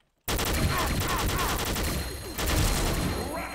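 Loud, rapid automatic assault rifle fire from the XSHOT shooter game, Diamond Dust-Galaxy rifle, cracks in dense continuous bursts right after a moment of silence, with no talking.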